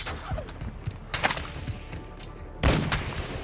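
Sharp gunshots from a sniper rifle in an online shooter ring out as a few separate loud cracks a second or two apart, over faint background game noise.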